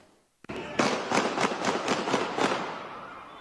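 Pistol shots fired into the air during a late-night street brawl, about eight sharp cracks in a fairly steady run after a single early pop, moderately loud and slightly distant, with no talking.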